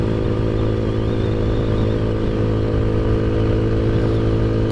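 An Ice Bear Maddog scooter runs at a steady drone while being ridden, a constant loud engine hum with wind noise and no breaks.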